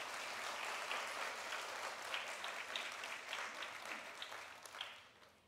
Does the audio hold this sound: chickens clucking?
no